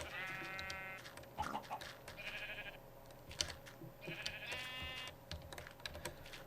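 Sheep bleating in Minecraft, several short nasal bleats in separate bursts, fairly faint, mixed with keyboard typing clicks and light game ambience.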